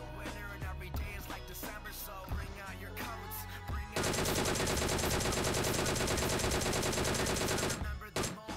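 Gunfire crackles in the mobile battle-royale game BGMI near shipping containers. Scattered shots at first give way to a long, loud, dense burst of rapid automatic fire that stops abruptly near the end.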